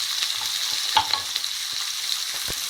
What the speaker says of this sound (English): let those onions cook through before we add some spice to this